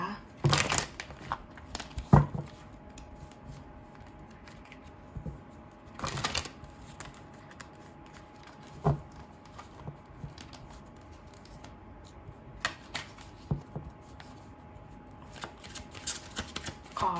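Tarot cards are shuffled in short, crisp riffling bursts spaced several seconds apart, with soft handling rustles between them.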